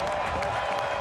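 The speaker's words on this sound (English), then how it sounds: "even North Carolina FC applauding that effort from the captain" A football crowd and players applaud a goal-line clearance by the captain in a Detroit City FC versus North Carolina FC match, a steady wash of distant clapping filling the whole short moment.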